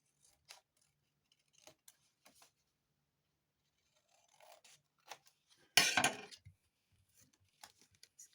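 Scissors snip paper for a gift envelope card, a few faint scattered clicks followed by one louder, longer cutting rasp near the end, in an otherwise quiet room.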